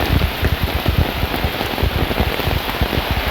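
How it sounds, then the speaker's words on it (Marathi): Heavy monsoon rain drumming on an umbrella in a Kokan village near Kankavli, a loud dense patter of close, irregular drops with no let-up and no talk. "आता पाऊस जो आहे तो खूप जास्त प्रमाणात वाढला आहे."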